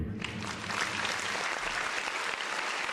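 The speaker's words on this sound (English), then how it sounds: "I used to have clapping on there." Steady applause from a crowd fills the whole stretch, dense clapping at an even level with no pauses.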